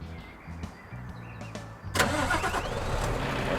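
A Scania truck engine in Euro Truck Simulator 2 cranks and catches around the midpoint, then settles into a loud, steady rumble after a few quieter clicks and mechanical knocks.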